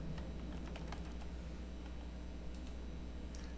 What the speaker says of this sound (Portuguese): Vou digitar de novo aqui.